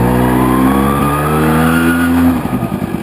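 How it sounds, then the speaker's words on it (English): A Tomos LX moped engine with a Dellorto carburettor revs on the throttle, a loud close buzzing whine that rises in pitch, then drops and sputters as the throttle is released. "You throttle, but it's also how the throttle, you know, cuts back out."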